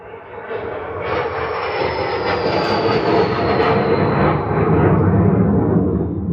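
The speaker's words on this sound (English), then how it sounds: "There goes a plane." An airplane passes overhead outdoors, its engine roar swelling from a moderate rumble into a loud, sustained drone with a high whine that holds to the end.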